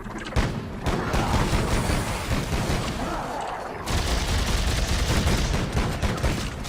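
Sustained bursts of co-op gunfire in Dead Space 3, loud and dense throughout with a brief lull before resuming, layered over game sound with no one talking.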